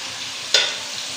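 Onions frying in a pan until light brown: a steady close hiss of sizzling oil with one brief louder crackle of stirring partway through.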